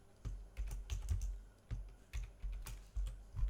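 Typing on a computer keyboard while coding, with about a dozen soft, close key taps arriving in short uneven bursts and brief pauses, and no voices.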